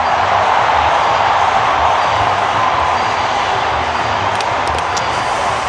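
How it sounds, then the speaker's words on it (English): Cricket stadium crowd at an England versus South Africa T20 match roaring after a wicket, a dense, loud, unbroken wash of cheering throughout. "Listen to the crowd."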